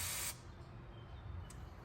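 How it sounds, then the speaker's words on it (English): WD-40 sprays hard onto a rusty bolt on a BMW X5 suspension strut in one loud hiss lasting about a quarter second. A very brief second puff follows after a pause, and there is no talk. "I'm gonna go ahead and spray some WD-40 on that"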